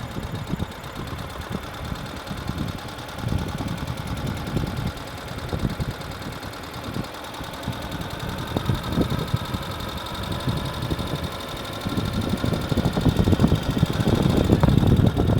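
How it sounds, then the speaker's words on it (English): A Ural sidecar motorcycle engine runs in second gear at idle, a close, steady low putter with uneven knocking pulses that swell louder as a little throttle is added toward the end. "I'm in second gear at idle, and I can just give a little throttle."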